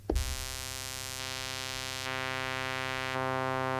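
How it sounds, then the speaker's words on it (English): A sustained synthesizer tone played through a band-pass filter, rich in steady harmonics, shifting in steps as the filter moves and more bass enters, alone with no voices. "We hear bass coming in, but it's also getting darker, as if we have a low-pass filter on it."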